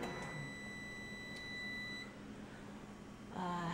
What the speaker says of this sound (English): I have a soup I'm preparing in the microwave.